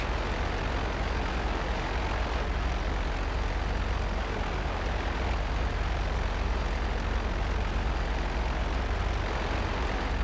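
A plane flies in GTA Online, its engine giving a steady, loud drone with no pause for the full length and no talk over it.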